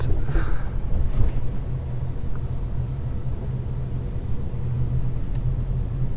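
U-Haul trucks driving through the small former plantation town of Waialua on Oahu, Hawaii, a steady low engine and road rumble of passing vehicles, fairly close and continuous.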